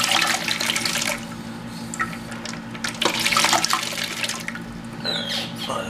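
Water rushes steadily from a flushed-out toilet fill valve in a condo bathroom with low water pressure, a continuous close hiss and splash running the whole time with small shifts in flow.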